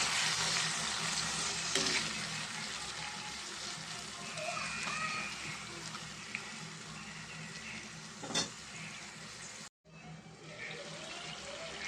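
Onions and tomatoes cook in a covered pan for a potato-tomato curry, giving a steady soft sizzle and bubbling. A few brief clinks come through, then a short break near the end before the sizzle resumes.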